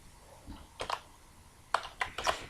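Typing a formula on a computer keyboard, a few soft close key taps in two short clusters over a quiet room hum.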